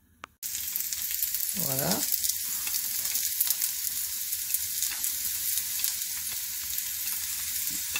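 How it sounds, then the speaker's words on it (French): Onions frying in hot oil in a small pan, a steady loud sizzle that starts suddenly and carries on without a break, while a voice speaks briefly near the start. "Et je vais mettre mes oignons à revenir."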